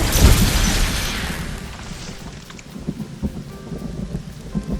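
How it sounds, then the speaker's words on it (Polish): A thunderstorm in the Lego Fortnite game: a heavy thunder crack and rumble opens, then steady rain with a booming roll that fades while the downpour continues. "Ale burza!"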